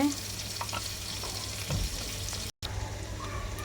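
Sliced onion and green chillies frying in hot oil in a pan, a steady close sizzle with occasional stirring, continuous apart from a brief cut.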